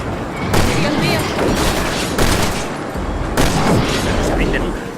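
Heavy gunfire aimed at a helicopter in the video game Resident Evil 6, dense loud bursts and booming blasts in two big waves over a constant roar, with voices mixed in.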